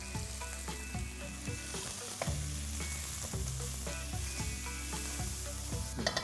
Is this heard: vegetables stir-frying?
yes